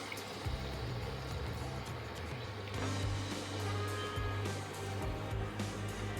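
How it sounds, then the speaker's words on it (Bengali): Water is poured into a pan of Bengali-style vegetarian jackfruit curry with potatoes, a steady close splashing and gurgling over the hum of cooking, with no talking. "এবার আমি জল দিয়ে দিচ্ছি।"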